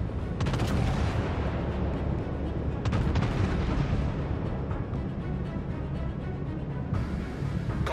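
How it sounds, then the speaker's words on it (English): Warships in World of Warships: Legends fire their naval artillery in a sustained, loud barrage, with booming salvos and sharp cracks rolling over one another against a constant rumble of battle. "All stations, concentrate fire on that target."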